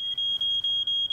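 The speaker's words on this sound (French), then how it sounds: "Ça prouve que ton détecteur de fumée fonctionne." A piercing high-pitched smoke alarm tone sounds steadily during a test, broken by short regular gaps about every quarter second, loud and close with no talking.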